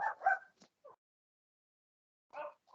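A dog lets out a few short, quiet whines and yips in separate bursts with silent pauses between, close by in an otherwise hushed room.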